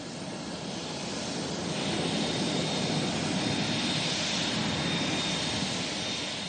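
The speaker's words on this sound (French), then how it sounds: "les avions peinent à rejoindre la zone de décollage" Aircraft engines roar steadily at a snowy, icy airport as planes struggle to taxi toward takeoff, a loud, continuous broadband rumble with a faint high whine, no voices.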